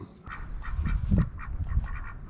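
Ducks in an abandoned mountain village give a short run of nasal honks and quacks, close by and moderately loud. The calls come in several quick bursts over a few seconds with no talk.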